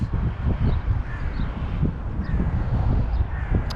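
Crows caw repeatedly at a distance over steady outdoor wind and rustle, with scattered bird calls throughout.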